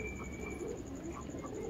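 Old-lineage pigeons coo softly in a loft, a few low throaty calls repeating at a moderate distance against a faint background hum.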